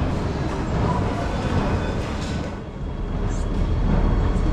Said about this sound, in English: Alright, this is our train.